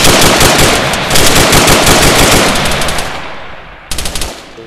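Loud, close automatic gunfire in the military shooter game ARMA 3, a sustained dense rattle of rapid shots that tapers off, then a short final burst.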